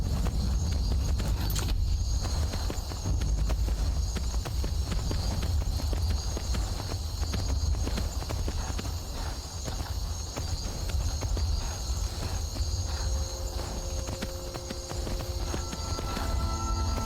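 A horse in the video game Skyrim trotting with a steady clip-clop of hooves at moderate distance, over an ambient bed of crickets and insects.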